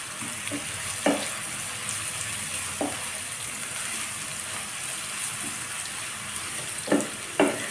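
Onions frying in a pan for chola bhuna, a steady soft sizzle running throughout with a few sharp clinks of a spoon against the pan, close and fairly quiet.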